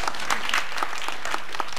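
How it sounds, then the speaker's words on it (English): Children and parents applaud together at a synagogue siddur celebration, a steady dense patter of many hands clapping at close range throughout. "Applaud yourselves for your siddur covers."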